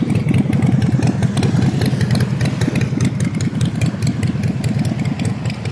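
A motorcycle engine idles loudly and steadily up close, a rapid low chugging with clattery texture running throughout.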